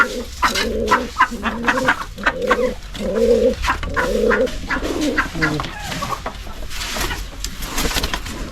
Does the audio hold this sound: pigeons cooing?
yes